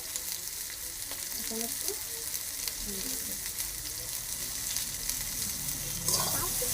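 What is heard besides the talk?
frying and stirring cabbage filling with peas in pan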